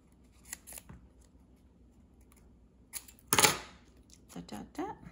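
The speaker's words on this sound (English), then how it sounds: "Okay, cut it off here." Scissors snip paper for a junk journal in a few sharp, close cuts scattered across the clip. One louder snip falls in the middle, with faint rustling between the cuts and no voices.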